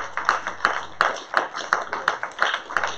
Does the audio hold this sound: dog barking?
no